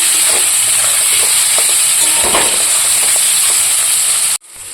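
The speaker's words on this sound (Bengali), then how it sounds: "আলুটা ভাজার সময় আলুটা হলুদ দিয়ে দিলাম" Potato pieces frying in hot oil with turmeric, a steady loud sizzle and hiss running almost unbroken before cutting off abruptly near the end.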